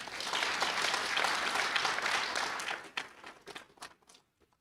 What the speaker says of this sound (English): an applause for Kaloyan.